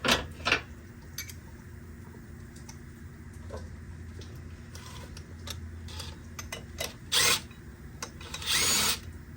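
A socket wrench with a 15 mm socket on an extension works a bolt loose during a timing job on a 2014-2019 GMC Sierra, giving scattered close ratchet clicks and two louder rasping bursts over a steady low hum.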